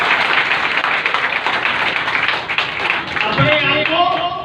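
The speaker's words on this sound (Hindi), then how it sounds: "बच्चे के लिए जोरदार ताली बजाई जाता है।" A group of children and adults at a career counselling workshop claps loudly for a child, a dense burst of applause that fades near the end as voices and other sounds take over.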